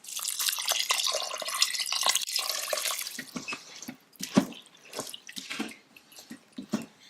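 Water poured over rice in a cooking pot for sticky rice jambalaya, a steady rushing splash for about three seconds, then scattered drips and small splashes with no talking.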